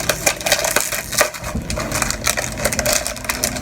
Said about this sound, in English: Sorry about any of the crinkling, but that's what happens when you do unboxing.